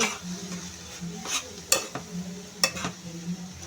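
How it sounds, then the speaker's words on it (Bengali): A spatula scrapes and stirs through sizzling water spinach (kalmi greens) in a pan, several brisk strokes over a steady low fry. "আবার এসে নেড়ে দিচ্ছি।"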